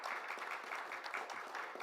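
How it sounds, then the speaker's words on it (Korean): Steady applause fills a conference hall after international security presentations and panel discussions, a dense, even patter of many hands clapping at a moderate distance, continuous throughout with no talk over it. "이 발표자 토론자분들께 다시 한번 박수 한번 보내주실까요?"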